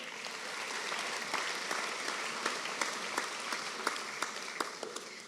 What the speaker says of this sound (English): Big round of applause for all our CATS graduates this morning